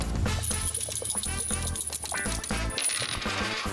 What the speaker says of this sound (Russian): он должен взять монеты, потрясти их и бросить на стол